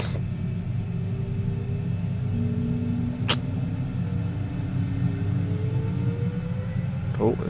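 An H125 helicopter in Microsoft Flight Simulator 2024 spinning up its rotor blades at low speed, a steady engine and rotor rumble with a faint rising whine, continuous and fairly near, with a brief click partway through.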